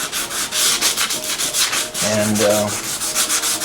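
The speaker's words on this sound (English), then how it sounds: "I'm starting out with some really heavy sandpaper just to get it nice and smooth." Heavy sandpaper rubs over a broken stereo speaker cabinet in rapid, even back-and-forth strokes, loud and close, with a brief voiced sound partway through.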